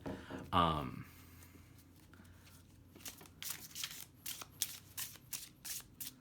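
Numinous Tarot cards being shuffled overhand and riffled: a loud initial riffle burst followed by a run of crisp, rhythmic card slaps and flutters, close and clear with no talking over them.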